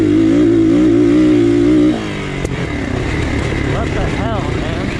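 An SP500 motorcycle engine runs off-road, first steady and loud with a strong harmonic drone, then abruptly dropping to a rougher, uneven sputter as it leans out, close to the listener.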